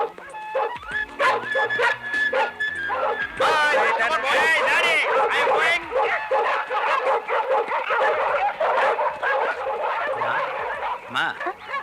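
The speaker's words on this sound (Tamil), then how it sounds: "புது நாய் இழுக்குது, யாருக்கு கட்டுப்பட மாட்டேங்குது." A newly brought dog yelps, whimpers and barks excitedly while straining against its leash, close and loud, with several people talking and shouting over it throughout.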